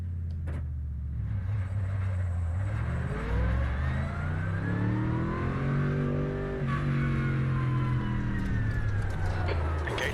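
A race car engine in the iRacing sim revs up and down through the gears, its pitch climbing and falling in repeated sweeps, loud and close. A few low thumps and clicks sit at the edges.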